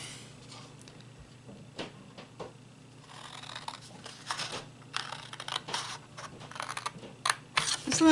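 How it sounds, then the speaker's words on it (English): Scissors snip through paper while a gift card holder tag is being made, a run of soft, crisp cuts close by that grow denser and louder toward the end, over quiet room tone. "The sound of scissors cutting paper."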